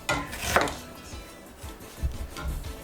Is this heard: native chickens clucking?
no